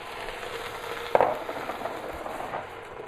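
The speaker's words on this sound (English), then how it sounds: "just add in the venison stock" Venison stock poured into a hot pan for a black bear stew, giving a steady crackling sizzle with a brief louder splash-like burst partway through, no talking.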